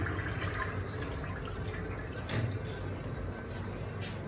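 Western toilet flushing in a budget hostel bathroom in Laos, a steady rushing, gurgling wash of water that stays fairly loud and continuous throughout, with a brief swell midway.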